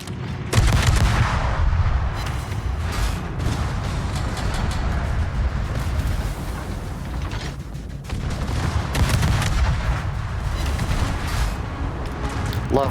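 Dense, continuous roar of naval gunfire in World of Warships at low tiers, warship shells booming over a heavy rumbling battle bed, loud and sustained with scattered sharper bursts.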